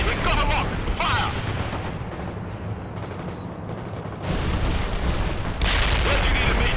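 Artillery fire in the real-time strategy game World in Conflict: heavy booming blasts and explosions thunder in bursts, with a loud barrage near the start and fresh impacts crashing in near the end, dense and rumbling throughout.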